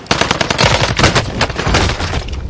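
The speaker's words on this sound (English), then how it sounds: "Bunch of guys firing." Rapid automatic gunfire rattles continuously in a battle royale video game, dense overlapping bursts from several weapons at close to mid range, loud throughout.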